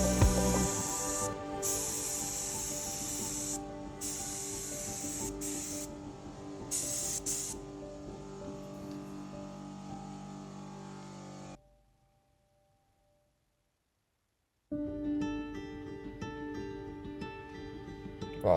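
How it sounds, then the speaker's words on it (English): A spray gun lays a second coat of paint on tractor wheels: several hissing bursts, some short and some sustained, then a stretch of near silence before spraying hiss resumes. "there's me just blowing in the second coat on the wheels"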